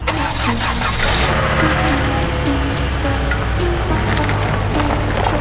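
An engine runs close by in a garage shuffle with a manual BMW Z4 convertible, a steady low rumble with slight revving, cut by occasional clicks and knocks.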